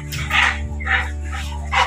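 A dog barks angrily, three loud, close, sharp barks in quick succession with brief pauses between them.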